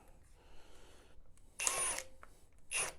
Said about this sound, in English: Notice I can get the bolt to set a lot quicker with the 1/2 inch as well.